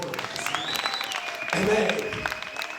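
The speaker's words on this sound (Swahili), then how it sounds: "Pigia Yesu makofi basi." Church congregation clapping during a sermon, a steady wash of applause that swells louder partway through, with a sustained tone ringing faintly above it.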